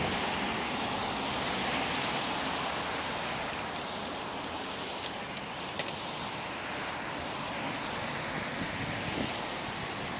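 Wind blowing hard across open ground on a country walk near Bannockburn, a continuous broad roaring rush that stays loud and steady throughout with slight swells, no voices.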